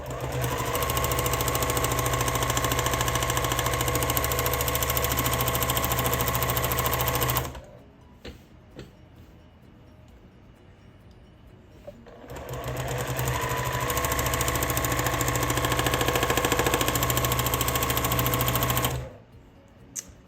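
Sewing machine stitching free motion quilting on a dog quilt runs at fast speed in two long, loud, continuous bursts of rapid mechanical chatter, separated by a quiet pause of a few seconds before it stops again.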